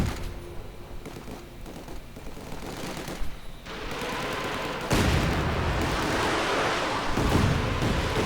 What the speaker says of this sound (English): that is the spot the Katyusha is bombarding